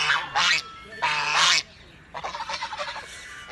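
Loud, nasal calls of ducks close by at a pond, two long honking bursts followed by a quicker run of chattering quacks.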